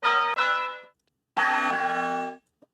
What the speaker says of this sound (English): And then another bell to give it more grandioseness.